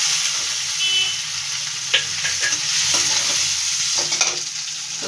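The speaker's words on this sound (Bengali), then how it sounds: "এবার টমেটো দিয়ে দেবো।" Tomato goes into a pan of frying onion and garlic, a steady loud sizzle with scraping stir strokes and a few clinks of a spatula against the pan, no voices.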